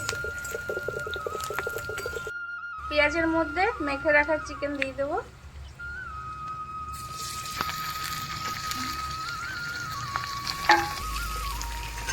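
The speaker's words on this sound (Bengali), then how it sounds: "পেঁয়াজটা লাল লাল করে একটু ভেজে নিচ্ছি" Onions frying in a wok until reddish-brown: a continuous sizzle and occasional stirring under a person talking and some tonal background sounds.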